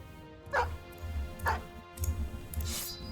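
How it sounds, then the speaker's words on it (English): A dog in the video game Battle Brothers gives a few short, yipping barks spaced about a second apart over a low game soundtrack, fairly quiet in the mix. "You get this dog."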